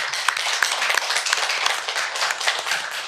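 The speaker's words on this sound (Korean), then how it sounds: "박수 한번 치시죠." Audience at an academic colloquium gives a round of applause, dense, loud and continuous hand clapping lasting a few seconds without speech.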